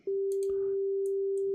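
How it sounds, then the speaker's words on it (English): A synthesizer plays a pure, steady sine-wave tone that holds at one pitch throughout, loud and unbroken, with faint clicks and small noises behind it. "I was using sine waves. I'll play a little bit of that for you right quick."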